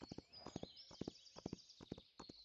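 A horse's hooves clip-clop in a video game, a quick uneven run of hollow knocks at a steady walking pace, fairly close and distinct, over a faint background tone and with no talking.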